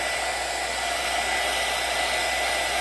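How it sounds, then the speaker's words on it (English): A hair dryer on a high setting blows steadily at air dry clay, a continuous close whooshing drone with no talking. "dry it, because this does not have a low setting. And I want to dry it."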